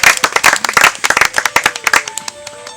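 A church congregation clapping and applauding, a dense burst of close hand claps that thins out into a few scattered claps before fading to near quiet.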